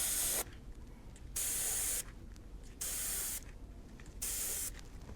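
Spray paint hisses over a stencil in four short, even bursts with brief gaps between them, close and moderately loud above a low background hum.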